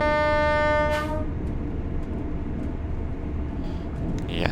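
A Class 801 train horn on the East Coast Main Line in Train Sim World 6 gives one firm, steady blast of about a second, then cuts off, leaving the train's continuous low rumble underneath.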